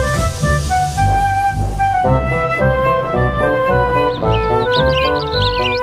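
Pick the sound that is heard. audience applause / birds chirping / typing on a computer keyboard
birds chirping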